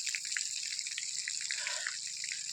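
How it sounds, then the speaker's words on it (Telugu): Borewell water near Medaram flows nonstop, making a faint, steady trickle with small splashy drips, fairly quiet and without voices. "బోరింగ్ వాటర్ అయితే ఆగుతలేవు, పోతూనే ఉన్నది కంటిన్యూగా, అట్నే వాటర్ వెళ్ళిపోతున్నాయి"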